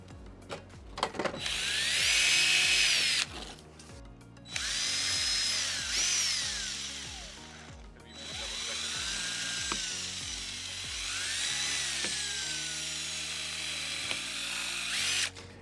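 A power drill bores holes into wood for a DIY outdoor chandelier, loud and close, in several long bursts with the motor whining up and winding down between them.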